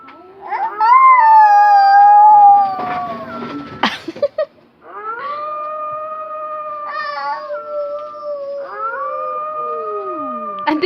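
A human voice imitates a wolf howling: three long, wavering, loud howls delivered close up, separated by brief pauses and a clatter of handling noise.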